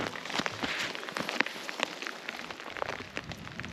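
Rain patters steadily in a Scottish village in the Highlands, a dense crackle of drops striking nearby surfaces, with a few sharper hits standing out and no talk.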